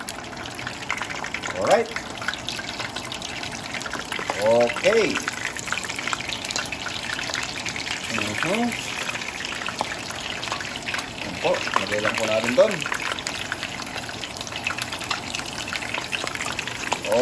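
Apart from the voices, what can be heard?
frying in hot oil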